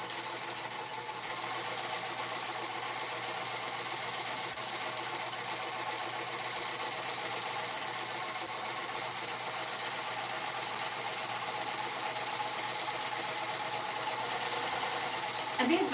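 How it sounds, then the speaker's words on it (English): A sewing machine winds a small bobbin, producing a steady, even mechanical hum at moderate volume that holds without a break from start to finish. "it's not that difficult to wind them, so I just do it while I'm at the machine"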